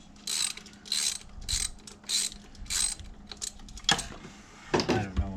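A ratchet socket worked on the engine of a 1996 Volvo 850 Turbo gives about six quick close clicking bursts at an even pace, then a couple of louder knocks near the end, with no voice.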